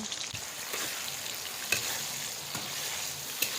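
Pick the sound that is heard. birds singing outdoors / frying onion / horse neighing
frying onion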